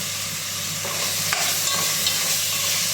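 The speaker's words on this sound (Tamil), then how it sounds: "ஒரு 4 விரல் அடங்குற மாதிரி புதினா, அதே ஒரு 4 விரல் அடங்குற மாதிரி கொத்தமல்லி சேர்த்து மிக்ஸ் பண்ணிக்கணும்" Steady frying sizzle as mint and coriander are stirred into ghee rice masala in a pan, with a few soft spoon scrapes and clinks over the continuous hiss, close and without talk.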